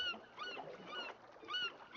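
Seagulls calling in An English Haunting: faint, distant squawks repeating in two short bursts over quiet ambient background, with no talk.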